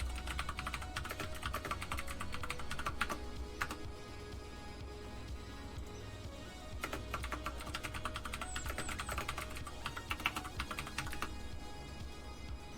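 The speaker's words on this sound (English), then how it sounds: "I'm typing all the options out right now" Rapid typing on a computer keyboard, steady clusters of close, crisp key clicks across the whole stretch with brief pauses, no talking.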